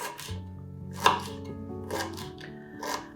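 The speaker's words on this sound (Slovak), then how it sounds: "Nakrajame ho na menšie kúsky" Knife chopping nettle root into small pieces on a board, several distinct close chops with one sharp loud strike, ringing slightly, no talk.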